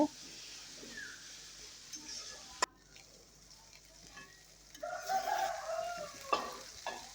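Spice masala being fried and stirred in a pan for a fish and cauliflower curry: a soft, steady sizzle with occasional scraping and a sharp click, close but fairly quiet.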